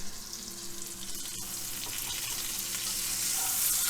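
A burger patty fries in a pan with a steady, close sizzle that swells slightly toward the end, with no talking.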